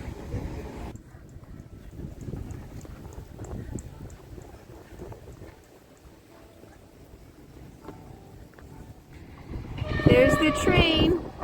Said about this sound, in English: There's the train. You see it?